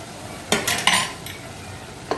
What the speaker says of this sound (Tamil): இப்போ நம்ம அரைச்சி வச்ச மசாலாவையும் போட்டு வதக்கிக்கலாம்